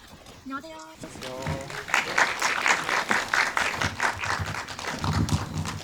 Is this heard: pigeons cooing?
no